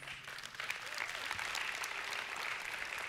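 Audience applause at a church service, a sustained, even wash of many hands clapping, fairly faint and continuous throughout.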